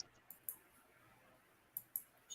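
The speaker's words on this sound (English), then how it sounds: "I hear you clicking." Sharp mouse or keyboard clicks tap out in small clusters during a live online call, faint and quiet against a hushed background with no talking.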